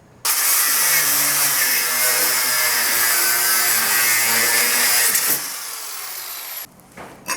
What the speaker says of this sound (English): so I'm gonna have to cut this now with a grinder and get this off.